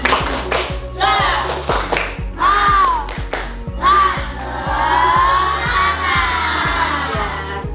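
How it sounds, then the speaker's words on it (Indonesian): A classroom of children claps a fast, rhythmic 'tepuk semangat' chant led by one child, sharp hand claps in steady bursts with excited shouted voices chiming in throughout, loud and close. "Sekarang tepuk semangat dulu"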